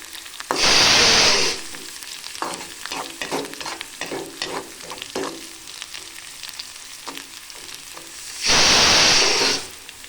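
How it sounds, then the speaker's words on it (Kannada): Kirsali greens fry in hot oil for palya, a steady close sizzle broken by rapid scraping stirs, with two louder bursts of hissing near the start and end. "ಸ್ವಲ್ಪ ಕೆಂಪಗೆ ಎಣ್ಣೆಯಲ್ಲಿ ಫ್ರೈ ಮಾಡ್ಕೋಬೇಕಿದೆ."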